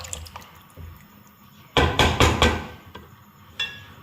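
Water splashes into a pot of aloo gosht mutton curry in a few loud, quick pours, then a smaller splash follows.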